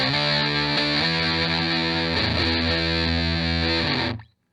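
A thick, heavily distorted electric guitar through a Lil Trees Guitars Synesthesia Distortion pedal rings out with sustained chugging chords, loud and close, then cuts off abruptly at the end.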